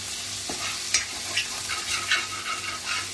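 Tomato and masala sizzle in a pan while a spoon stirs them, with steady frying hiss and a few light scraping strokes, close and alone.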